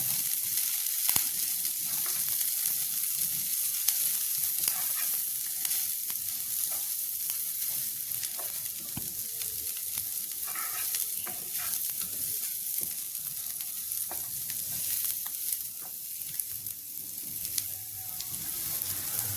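Onions sizzle and fry steadily in hot oil in a pan for a Sri Lankan soya meat curry, a continuous close crackle with faint stirring scrapes throughout and no talking.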